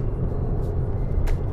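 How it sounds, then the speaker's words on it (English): A 2022 Audi RS 3 Sportback accelerating, a deep, steady engine rumble heard from inside the car with a low, continuous drone and no talking over it. "You hear that acceleration?"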